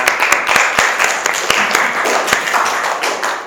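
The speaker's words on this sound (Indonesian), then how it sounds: "Tepuk tangan." Students in an Indonesian middle-school classroom clap their hands in a burst of applause. Sharp, uneven claps run steadily for several seconds at close range, with no speech over them.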